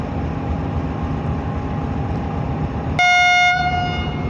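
Bahauddin Zakariya Express pulling out of Drigh Road station behind an AGE-30 diesel locomotive: a steady rumble of the moving train, then a loud, sustained horn blast begins partway through and runs to the end.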